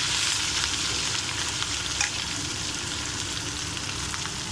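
Green chillies, curry leaves and onion frying in a pan for besan curry, a close, steady loud sizzle with faint stirring and crackles throughout.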